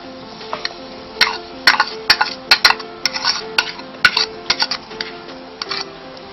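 A spoon clanks and scrapes against a pot as carrots go into boiling onions for a meat pie filling. Irregular sharp metallic knocks ring out over a quiet bubbling background.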